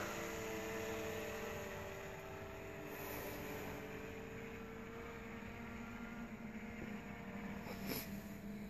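A DJI Phantom 2 Vision Plus quadcopter flies a waypoint mission, its steady rotor whine faint and distant, holding evenly throughout with no voices over it.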